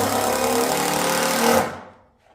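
A power saw buzzes loudly and steadily through a 2x8 wooden board for about a second and a half, then winds down quickly to silence as the cut finishes.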